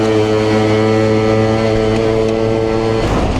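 A 50cc scooter engine drones loudly and close up during a test ride, a steady buzzing tone that shifts as the ride goes on, with no voices.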